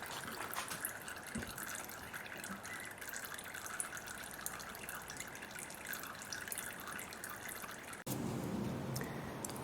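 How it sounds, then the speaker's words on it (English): Engine oil drains from a 2006 Mercedes C180 W203 into a pan, a faint steady trickle with dripping continuing throughout, and a louder shift in the flow near the end. "Now we're just gonna wait for that oil to finish draining"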